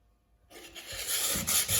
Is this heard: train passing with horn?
no